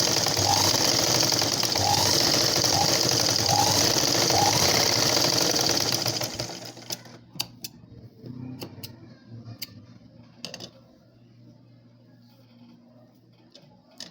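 A sewing machine stitches blouse fabric in a rapid, rhythmic mechanical whir for about six seconds, then stops, leaving faint ticks and handling clicks.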